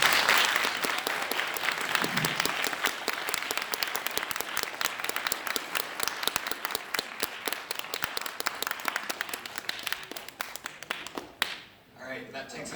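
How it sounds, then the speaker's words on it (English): Audience applause at the close of a student iGEM synthetic biology presentation, a dense sustained clapping from a room crowd that lasts about twelve seconds before tapering off sharply near the end. "Everyone, a round of applause."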